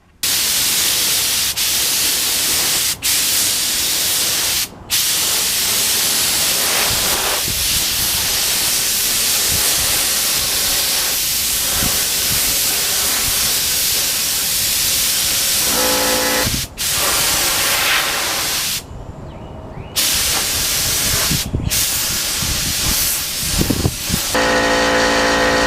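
A spray gun lays clearcoat onto carbon fiber motorcycle parts during a restoration, a loud, close, continuous hissing spray broken by a few brief pauses and trigger releases.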